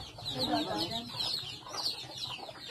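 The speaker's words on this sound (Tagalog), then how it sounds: "Parang spoiled yung mga manok na yan ha." Farmyard chickens clucking at feeding time on a rural Philippine farm, a close burst of busy, overlapping clucks and squawks, with a person speaking over them.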